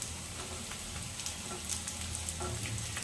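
Chopped onions fry in a pan for vegetable Maggi, giving a soft, continuous sizzle with faint crackles and pops, fairly quiet and steady, with no voices.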